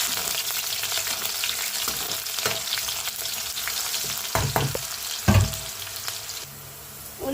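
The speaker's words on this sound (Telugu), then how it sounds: "ఉల్లిపాయ వేగిన తర్వాత పచ్చిమిర్చి మొత్తం అయితే లైట్గా ఫ్రై చేసేసుకోవాలండి." Onions and green chillies frying in a pan in a village kitchen, a steady close sizzle with occasional stirring clatters and a louder scrape near the end, no talking.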